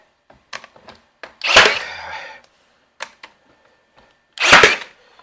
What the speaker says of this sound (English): we're just gonna keep shooting all these nails in here